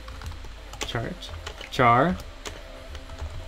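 Computer keyboard typing while writing Java code: scattered close key clicks in short bursts, heard under someone talking.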